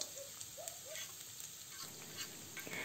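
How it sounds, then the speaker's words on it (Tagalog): Chopped onion and garlic sizzle steadily in a hot pan of oil for a Filipino dynamite lumpia filling, a faint, continuous crackling fry with soft spatters and no talking. "Lutuin lang natin ang sibuyas at bawang hanggang sa lumambot ito"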